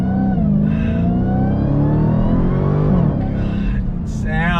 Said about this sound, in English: there's just nothing like that V8 rumble